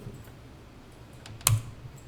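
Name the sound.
typing numbers and pressing Enter on a computer keyboard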